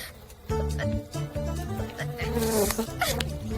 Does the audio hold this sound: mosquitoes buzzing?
yes